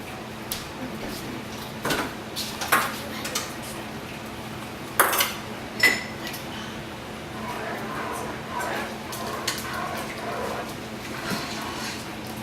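Fels-Naptha soap being stirred in a pot on a stove over low heat, with scattered metallic clinks and scrapes of a utensil against the pot, some louder knocks, close by and with no voice over it.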